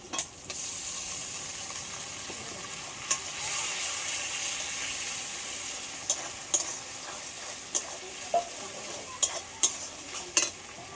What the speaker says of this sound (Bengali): আদা রসুন বাটা দিয়ে দেবো